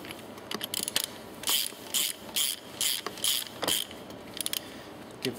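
A hand ratchet tightening the last bolts on a C1 kitset, with a fast, close clicking of the pawl in repeated bursts of about half a second and short pauses between strokes, and no talk.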